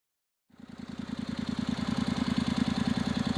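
A 2016 Honda CTX700 motorcycle engine starts up and settles into a steady, close idle with a regular pulsing beat, running alone without voices.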